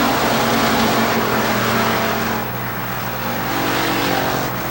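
Stock cars racing at Rockford Speedway in 1994, a loud, dense engine roar from several cars that swells and dips slightly as they pass.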